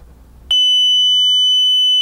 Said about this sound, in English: We'll show you how the medical just does the keypad alarm.